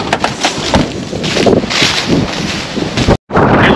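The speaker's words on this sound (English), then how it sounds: "it is super duper windy out today" Strong wind blows outdoors, buffeting the microphone in a loud, continuous roar with gusty surges and one brief dropout near the end.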